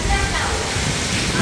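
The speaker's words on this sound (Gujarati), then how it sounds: "કાલ 7 વાગે ચાલુ થયો વરસાદ થાય છે" Steady village rain that has been falling since the previous evening gives a dense, even hiss that fills the whole stretch without pause, with a voice speaking over it.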